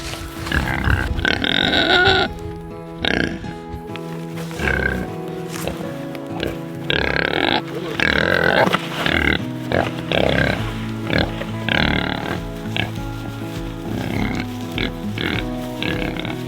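Pigs grunt and oink repeatedly up close in a farm pen in winter, a loud, busy stream of overlapping snorts and squeals that carries on throughout.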